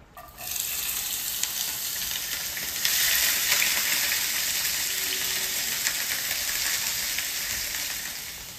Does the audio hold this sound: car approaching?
no